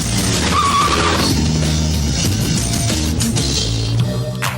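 A motorbike roars and skids away nearby, tires screeching over a loud engine rumble that stays close and steady throughout.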